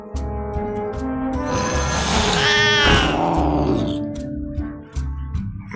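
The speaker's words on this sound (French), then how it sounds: "C'est le chat préféré de Kel'Thuzan." A drawn-out, strained cat meow or caterwaul from a Hearthstone card sounds loud and close for several seconds, rising and falling, with background game music beneath it.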